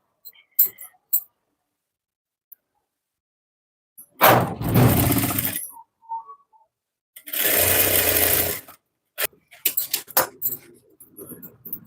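A sewing machine stitches a blouse sleeve in two loud, steady bursts of a few seconds each, separated by pauses, with fabric handling and faint clicks around them.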